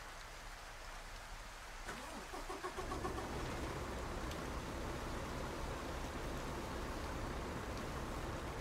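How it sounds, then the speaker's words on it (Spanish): A Kenworth T680 Next Gen truck engine turns over and catches, building into a deep, dense rumble that settles into a loud, steady idle heard from close by, with no talk. "Y chéquense cómo suena el sonido del motor, amigos."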